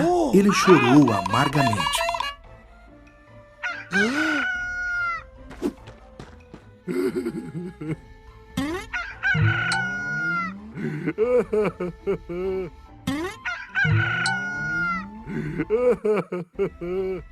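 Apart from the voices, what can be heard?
rooster crowing in a cartoon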